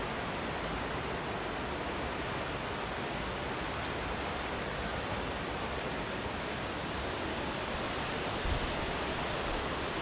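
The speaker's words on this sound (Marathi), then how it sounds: "देवदर्शन झाल्यावर आपण आता आलो आहोत सुंदर अशा समुद्रावरती." Sea waves at a Konkan beach make a steady, unbroken roar of surf, loud and even throughout, with no one speaking.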